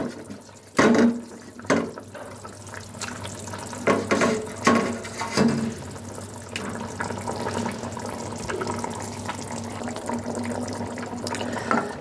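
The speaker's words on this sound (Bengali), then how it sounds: "এবার আমি এর মধ্যে মাছগুলো দিয়ে দেবো।" Pieces of fish dropped into a pot of boiled potatoes for a Bengali fish curry, giving a few wet splashes and bubbling liquid sounds, close and moderately loud, with no talk.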